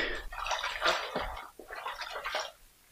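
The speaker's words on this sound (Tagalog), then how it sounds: "Maligam-gam na tubig to, nalagyan ko ng sabon para maging mabango." Lukewarm soapy water splashes and sloshes in bursts, close by and fairly soft, fading near the end.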